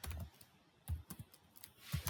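Keystrokes on a computer keyboard while typing Python code come in small clustered bursts of soft clicks with short pauses, close and quiet.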